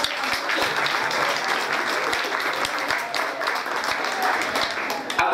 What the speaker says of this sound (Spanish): para todos ellos pido un fuerte aplauso